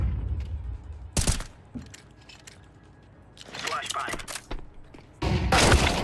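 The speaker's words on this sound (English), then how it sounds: "Flashbang." A flashbang grenade going off in the game CS2: a few sharp, loud bangs with a ringing tone between them, while players talk over the chaotic round.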